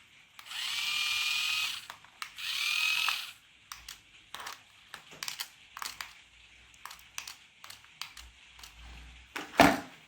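A cheap toy-grade RC car's small electric motor and gearbox, running on batteries, whine in two close, steady bursts of about a second each, followed by scattered light clicks and handling taps.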